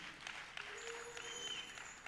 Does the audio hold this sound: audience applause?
yes